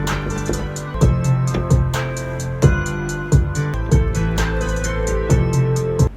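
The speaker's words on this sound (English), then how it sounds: "add some 80s synthesizers" 80s-style synthesizers swell into a dense music production of kick, snare, hi-hats, bass, bell chords and piano, bright sustained pads carrying over a steady thumping beat throughout.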